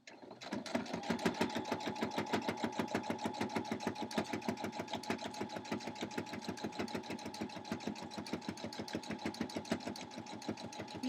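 A sewing machine runs a straight stitch along a fabric edge, a fast, even mechanical chatter that holds steady from start to finish, close and alone with no talk.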